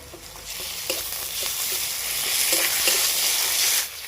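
Garlic paste and ginger paste hit a pan of fried onion and sizzle steadily, a close, even hiss that swells slightly, with faint scraping taps of stirring and no voices.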